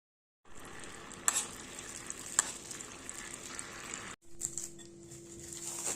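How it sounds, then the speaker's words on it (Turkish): Butter melting in a pan for a water börek, a faint steady crackle and sizzle with occasional clicks, heard close and alone, briefly cut off before resuming. "Eritip kenara alacağım şimdi tereyağını."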